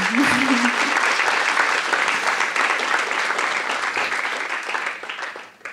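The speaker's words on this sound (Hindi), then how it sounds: "तालियां बजा सकते हैं और ऐसा खुल के." An audience at a spoken-word poetry performance breaks into warm, sustained clapping that holds steady, then thins and fades out near the end.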